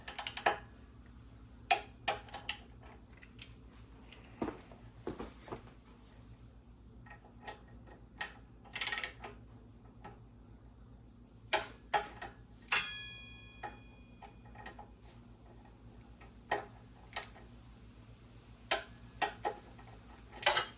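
Torque wrench tightening wheel bolts on a Kawasaki ZX6R motorcycle, a scattered series of faint sharp ticks and clicks in a quiet garage, with a few louder clicks.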